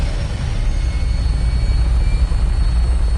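A Vertibird-style aircraft taking off in Fallout 4: a loud, steady engine roar with a low throbbing rotor rumble, close and continuous.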